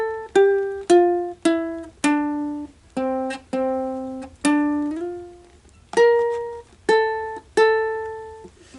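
Ukulele picking a riff at a slow pace, single plucked notes ringing out one after another in an even, unhurried rhythm, clear and close with no talking.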